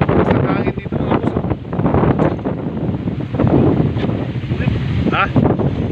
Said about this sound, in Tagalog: Basta hangin dito